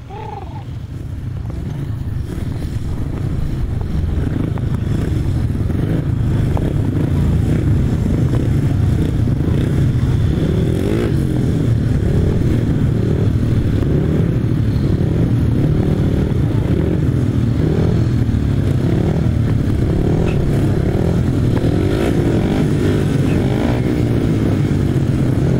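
Solo grasstrack motorcycles race in the first heat of the solos at the 2018 International Poacher, a loud sustained multi-engine roar building in the opening seconds, then holding a dense, droning howl throughout.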